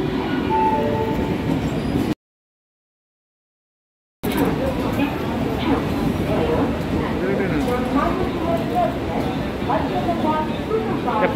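Local passenger train running from Madgaon to Karwar, arriving with a loud steady rumble of wheels and carriages broken by a brief dropout, while someone talks over it.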